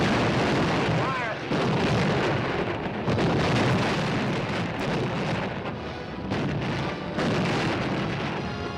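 Massed artillery guns fire in World War II newsreel footage, a dense continuous rumble of booms and blasts layered with narration and shouted commands, loud and unbroken throughout.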